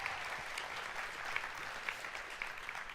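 A crowd at an evening gathering gives a guest speaker a warm round of applause, steady and dense clapping from many hands throughout, with a few sharper claps standing out and no talking.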